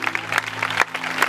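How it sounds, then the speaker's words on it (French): Audience at a school gathering clapping in a short, steady burst, close and moderately loud, with a low hum beneath. "Applaudissez encore pour eux."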